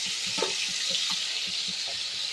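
Fish pieces frying in hot oil give a steady, close sizzling hiss with faint crackles and small pops throughout, no talk over it.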